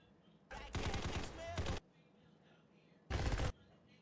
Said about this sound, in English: Minigun to end it.